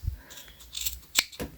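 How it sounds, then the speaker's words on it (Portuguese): Slightly dry scissors snip off excess crochet yarn on a baby sandal, giving a few crisp, quiet clicks and cuts spaced unevenly, close up, with no talk. "vamos cortar o excesso de fio. Essa minha tesoura está só um pouquinho seca"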